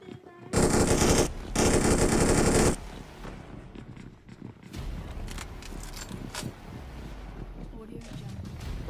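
Loud bursts of automatic gunfire from the BGMI (PUBG Mobile) battle royale game, two long sustained volleys close together, followed by scattered sharper shots and rumbling game ambience.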